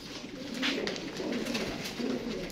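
Pigeons coo in soft, repeated low calls, close by over a constant murmur of background noise, with no voices heard.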